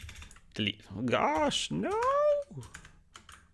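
Computer keyboard keys click briefly while a voice speaks over them, the speech dominating.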